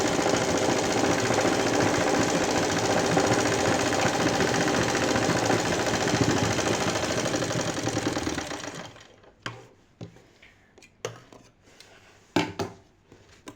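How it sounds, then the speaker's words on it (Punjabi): A sewing machine runs steadily for about nine seconds, stitching the final seam of a poncho, then stops, leaving only a few scattered handling clicks and knocks. "ਇਹ ਆਪਣੀ ਲਾਸਟ ਸਲਾਈ ਹੈ ਪੌਂਚੇ ਦੀ"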